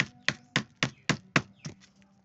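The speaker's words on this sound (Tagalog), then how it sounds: "Ito na siyang dukdukon ang ahos." Garlic is pounded with a mortar and pestle in a steady run of about eight or nine sharp thuds at even intervals. The thuds are close and clear, and the last few grow softer.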